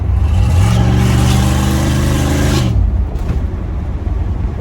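A car engine fitted with a Spectre Performance air intake, throttle body spacer removed, revs up strongly and holds a loud, rising mid-pitched roar for a few seconds before dropping back to a quieter idle rumble, with no talking.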